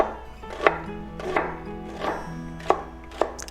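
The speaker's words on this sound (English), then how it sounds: "Cut onion into thin slices." A knife slices an onion into thin slices on a cutting board, five crisp, evenly spaced chops ringing out close and clear against a quiet kitchen background.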